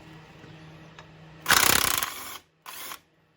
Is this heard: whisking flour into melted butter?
no